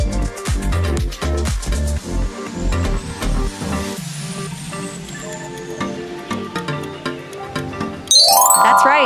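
Instagram logo sound: a short electronic jingle of bright, plucked tones and rising chimes, loud and alone, ending in a brighter sparkling flourish.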